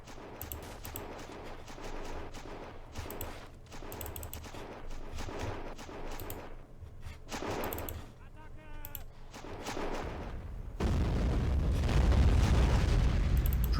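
Gunfire and bursting airburst artillery rounds in a WW1 battle video game, a steady clatter of shots and blasts throughout, growing louder and heavier toward the end with a deep rumbling roar; faint voices may sit underneath.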